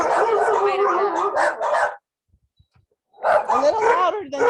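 Several dogs bark and yip in a kennel area, loud and close, in a dense burst that drops to near silence for about a second before another volley of barking resumes.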